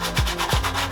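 Sandpaper rubbed by hand over a squeaky brake to take off a glazed, oily layer; two quick scraping strokes with a dull rasp, close up and fairly loud, with no talking.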